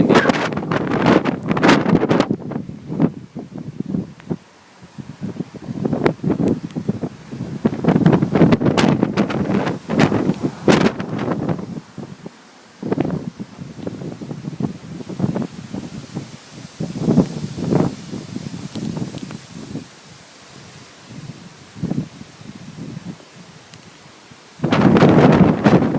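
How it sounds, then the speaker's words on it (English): Strong gusts of wind roar and buffet the microphone ahead of a severe thunderstorm under a shelf cloud, rising and falling in loud surges, with rustling and brief lulls. "It's getting really windy."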